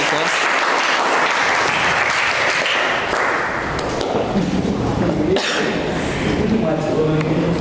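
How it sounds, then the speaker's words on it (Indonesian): A classroom breaks into loud, sustained clapping for a group that has just presented, many hands applauding together under some voices until the applause thins out near the end. "Tepuk tangan untuk teman kalian kelompok"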